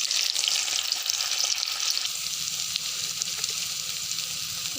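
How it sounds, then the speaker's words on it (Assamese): Soybean chunks frying in a pan of hot oil give a steady, close sizzle that runs the whole stretch, with faint stirring clatter beneath and no voices. "ইয়াত তেল গৰম হৈ গ'ল। ইয়াত এতিয়া সয়াবিনখিনি দি দিম।"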